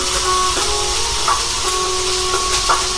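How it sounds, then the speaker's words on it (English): Butter melting in a hot pan gives off a steady, loud sizzling hiss with faint crackles and occasional small pops, with no voices. "So this butter is melting"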